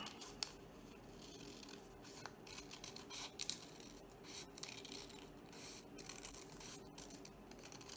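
Scissors snip through a folded paper petal template for a lotus candle holder, giving a steady run of close, crisp cuts and rustling paper with no voices.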